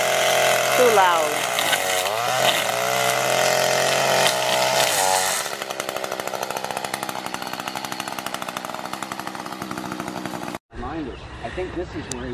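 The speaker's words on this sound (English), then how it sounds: "Let's see the weed whacker." A weed whacker engine revs hard and loud at close range, then drops into a rougher, rattling run. It cuts off abruptly near the end before a short burst of noise returns.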